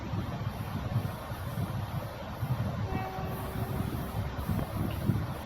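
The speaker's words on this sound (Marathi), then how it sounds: "खेड रेल्वे स्टेशनला गाडी थांबली आहे" Train interior rumble with a low steady hum, faint tonal squeals and occasional clanks, continuous throughout, as the train stands at Khed railway station.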